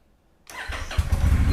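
A Honda CRF 1100L Africa Twin 2020 motorcycle engine starts up after a moment of quiet, catching abruptly and settling into a loud, close, throbbing rumble that grows stronger.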